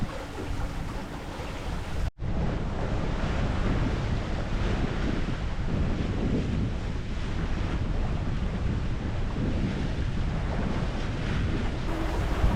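Steady, loud wind buffets the microphone aboard a sailboat running along a cold, drizzly north shore, with a continuous roar of air and water noise and no talk.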